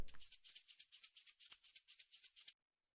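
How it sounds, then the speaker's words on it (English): A shaker sample for a piano house groove: a quiet, steady run of crisp, hissy shakes in a quick even rhythm for about two and a half seconds, then silence. "And then here's the shaker."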